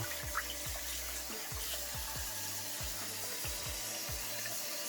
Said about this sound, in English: So just rinse off the salt and then I'm going to put this to boil.